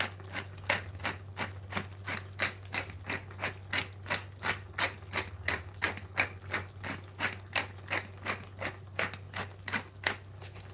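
A hand pepper grinder turned over a pot of spaghetti bolognese, giving a steady rhythmic series of gritty clicks, roughly three per second, close and clear above a low kitchen hum, no voices.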